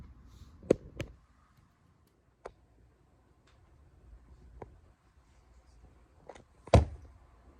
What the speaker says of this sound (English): I'm trying to close the door now.